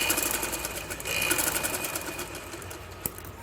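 A sewing machine stitches a frock with a rapid, steady mechanical whirr, close and continuous, with a small clack near the end.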